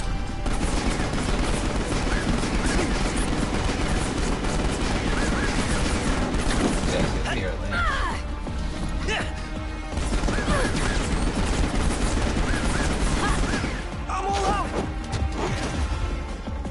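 Submachine gun fire in the video game Final Fantasy XV, Episode Prompto: loud, dense bursts of automatic shots and crashing impacts over a continuous, busy game soundtrack, with brief pauses between volleys.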